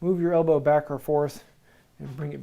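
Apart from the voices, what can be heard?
No distinct noise like a dog, phone or traffic.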